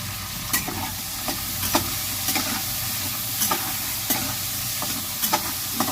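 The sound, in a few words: soaked chickpeas frying and being stirred in a pan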